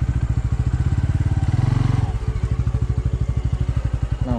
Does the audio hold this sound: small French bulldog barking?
no